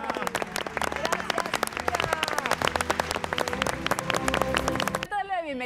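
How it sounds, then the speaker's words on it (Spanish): Studio audience applause on a Mexican TV variety show, dense clapping and cheering close and loud for about five seconds, then cut off abruptly as a bright electronic tone takes over. "Y la despedimos con un aplauso"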